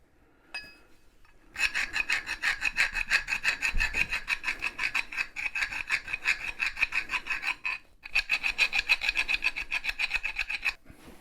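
A half round file rasps along the rough edges of a rafter axe head, steady rhythmic back-and-forth strokes in two long bursts with a short pause between, close and clear with no talking.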